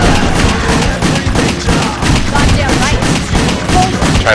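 Rapid gunfire in the video game WET during a speedrun, with dense, loud overlapping shots rattling almost continuously alongside game effects.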